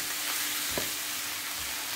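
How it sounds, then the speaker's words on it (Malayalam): Chopped cabbage and tomatoes sauté in a pan for a Kerala cabbage egg thoran, giving a steady close sizzle with a brief scrape of stirring in the middle. "അതും കൂടെ കൂട്ടി ഇതെല്ലാം ഒന്ന് തക്കാളിയൊക്കെ കൂടെ ഒന്ന് സോഫ്റ്റ് ആകുന്നിടം വരെ ഒന്നങ്ങ് വഴറ്റുക."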